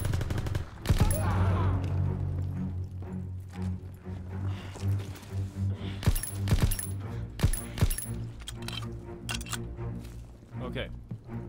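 Gunfire rings out in the Call of Duty WWII video game, with sharp bursts of shots and metallic clinks scattered across the action under a speaking voice.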